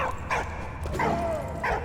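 Szarik, a dog in the video game Valiant Hearts, lets out several short barks and yips with whimpering tones in between, close and clear in the game audio.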